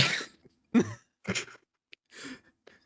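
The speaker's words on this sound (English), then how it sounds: "Cough. Wheeze. Cough." Several harsh coughs in a row, close and fairly quiet, separated by short pauses, with a faint raspy breath between them.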